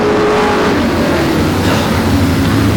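OSCAAR modified race cars run side by side at Sauble Speedway, loud engines roaring up close with shifting pitches as the cars accelerate and pass in a dense pack.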